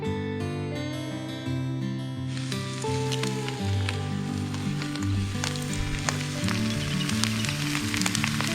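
Food sizzles steadily in a camp oven over a campfire, a soft continuous crackle and hiss under layered music tones, with no talking.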